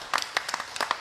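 A congregation at a healing church service breaks into brisk, scattered applause, a cluster of overlapping claps heard a little distant and moderately loud, with no speech over it.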